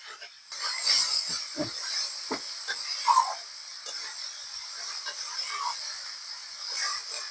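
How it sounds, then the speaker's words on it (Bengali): Figs being stirred through sizzling spices in a pan, with a steady hiss and intermittent scraping rasps of the spoon, close and moderately loud, no talking. "ডুমুর দেওয়ার পর আমি নাড়াতে থাকব যাতে সবগুলো মশলা ডুমুরির ভিতরে ভালোভাবে ঢুকে যায়"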